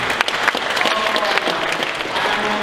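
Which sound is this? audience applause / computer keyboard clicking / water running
audience applause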